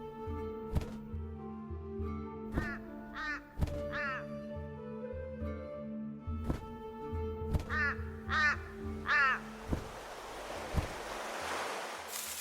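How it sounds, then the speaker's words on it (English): Crows caw in short repeated calls at a seaside island setting, moderately near, among heavy thudding knocks and a swelling wash of surf toward the end. "One such crow made its way to the seas of the east."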